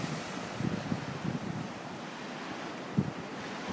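Ocean surf and wind on the beach at Sandy Cape with the tide going out, a faint steady wash of waves and breezy rumble against the microphone, with a few soft gusty bumps and no voices.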